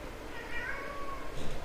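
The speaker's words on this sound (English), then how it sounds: "That was my cat." An old, vocal pet cat named Tigger lets out a drawn-out meow close to the microphone, muffled slightly over faint room noise.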